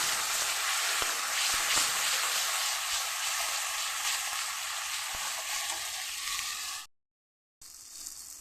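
Spice paste sizzles loudly and steadily in hot oil in a pan while cooking a Bengali air fish curry, a dense close hiss with faint stirring scrapes, cut briefly to silence before resuming.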